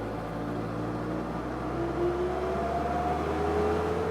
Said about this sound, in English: I'm going to turn up the throttle here.